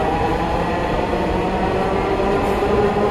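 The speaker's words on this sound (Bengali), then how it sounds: "মেট্রো রেল আবার আসবে।" A metro rail train pulls into a station with a steady, loud rumble that continues throughout, close by and with no speech.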